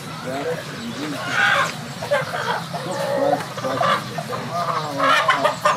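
Local hens in a chicken house clucking steadily, with overlapping bird calls and nearby flock noise, mixed with someone talking over them.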